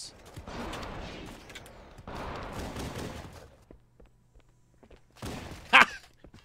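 Gunfire from a Magnum pistol in the Halo video game, a few short sharp cracks amid bursts of game sound and a brief loud shot near the end.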